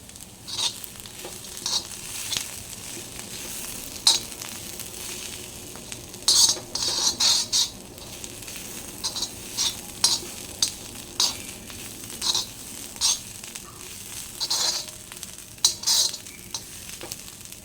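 Coarsely crushed peanuts are stirred into a frying cluster bean thecha mixture in a pan, giving bursts of scraping and clattering spoon strokes over a low steady sizzle, close and fairly loud, with no speech.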